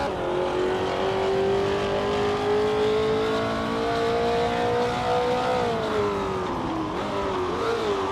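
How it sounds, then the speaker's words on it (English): A 1969 Porsche 908 Spider racing car in a video game, engine droning loud and steady at high revs, pitch slowly climbing then dipping and wavering near the end, other cars faintly around. "The chaotic weirdo is driving a 1969 Porsche 908 Spider, a classic light racing car."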